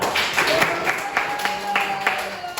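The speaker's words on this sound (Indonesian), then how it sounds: "baik, tepuk tangan." A classroom gives scattered, fairly light clapping, with separate claps audible through a low room murmur and a faint steady tone underneath.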